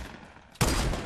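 Video game gunfire in Fortnite Battle Royale bursts in abruptly after a quiet half second and continues as a dense, rapid volley at moderate loudness.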